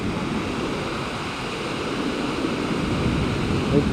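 A waterfall in Sikkim, a series of small and large cascades, gives off a steady, full-bodied rushing roar that stays close and unbroken throughout, with no voices.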